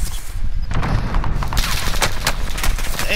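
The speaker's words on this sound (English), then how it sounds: "Damn, they shoot from on top of it" Rapid bursts of gunfire from a Call of Duty Warzone match, dense and continuous with sharp shots overlapping throughout, some close and some distant, and no talk.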